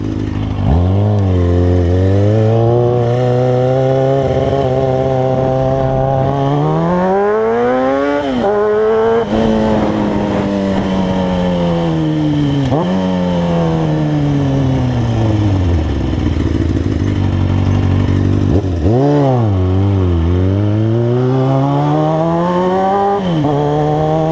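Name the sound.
car exhaust revving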